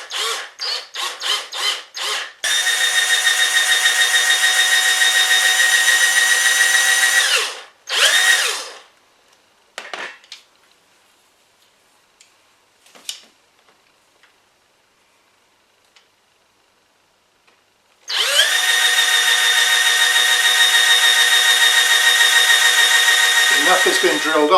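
A 4.5mm electric drill bores off a rivet head on a die-cast Dinky Toys Austin Taxi, with several short bursts and then a sustained high whine that stops. After a quiet stretch with faint clicks, the drill starts again and runs steadily.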